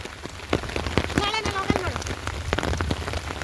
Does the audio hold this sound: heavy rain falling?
yes